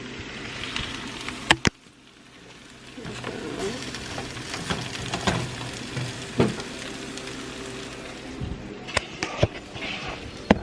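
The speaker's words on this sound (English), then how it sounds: "I chopped up some potatoes, and that's in the pot right now, frying in some butter with some seasonings" Chopped potatoes fry in butter with seasonings in a pot, giving a steady soft sizzle broken by sharp clinks and scrapes of stirring.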